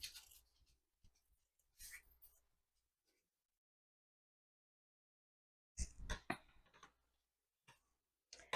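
Scissors cut fabric for a pencil pouch in two bursts of close, crisp snips and rustles, separated by a few seconds of silence.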